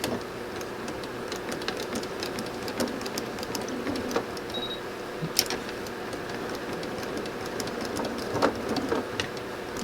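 A sewing machine stitches quilt pieces together with a steady, even mechanical whir, running continuously at moderate volume with small clicks.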